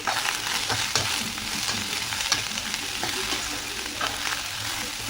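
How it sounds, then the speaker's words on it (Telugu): Red, green and yellow capsicum pieces fry in oil over a medium flame for a dhaba-style mixed vegetable curry, giving a steady, close sizzle with light stirring scrapes and no voices throughout. "ఎల్లో క్యాప్సికమ్ ముక్కలు కూడా వేసుకొని వేయించుకోవాలి ఇవన్నీ వేయించుకునేటప్పుడు మంట మీడియం ఫ్లేమ్లో ఉంచుకోవాలి"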